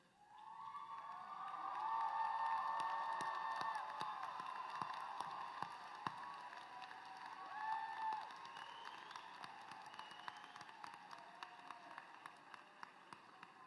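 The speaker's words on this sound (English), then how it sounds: "give your families the warmest round of applause that they deserve" At a Pace University undergraduate commencement ceremony, standing graduates cheer, whoop and applaud their families in a large crowd roar that swells, then thins into scattered clapping and isolated sharp claps.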